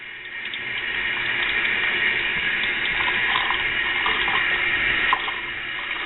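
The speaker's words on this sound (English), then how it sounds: "we just turn on a little bit of water here" A tap running a small, steady stream of water to wet flattened model trees for hobby scenery, a continuous close splashing hiss with no voices.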